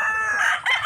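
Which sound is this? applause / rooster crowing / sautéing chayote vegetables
rooster crowing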